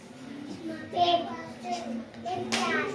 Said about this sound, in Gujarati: હવે એને તમે તાળી પાડીને વાક્ય બોલો